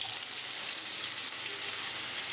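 Potatoes frying in hot oil with nigella seeds in a pan, a steady close bright sizzle with constant hiss and no talking.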